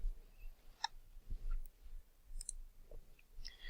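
A few faint, sparse computer mouse clicks, isolated sharp ticks spaced apart in a quiet room.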